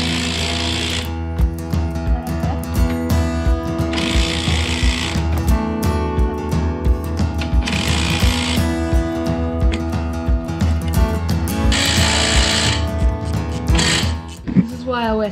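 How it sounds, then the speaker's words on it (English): A wire brush scrubs the chassis of a Toyota FJ40 during a strip-down, giving steady, rhythmic scraping strokes in bursts, close and loud, with repeated mechanical clatter underneath. "Gives a really good scrub with the wire brush."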